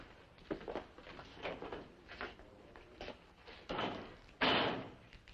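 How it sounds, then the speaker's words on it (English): A hall door being shut in an indoor setting, with a series of knocks and thumps ending in a firmer closing bang near the end, no talking. "Oh, you can use the hall door, Mr. Grumman."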